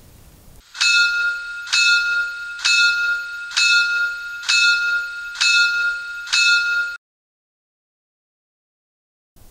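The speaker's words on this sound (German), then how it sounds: "F4 Glocke." Bell of a PIKO BR 82 N-scale model steam locomotive, struck six times in an even, steady rhythm, ringing clear and close before cutting off into silence.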